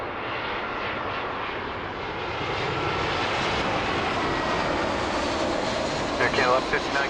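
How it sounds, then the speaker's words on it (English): An Airbus A320 from Chicago comes in to land at Toronto Pearson, a loud, broad, steady jet roar that swells slightly, with a voice talking briefly near the end. "Coming in is a A320 from Chicago"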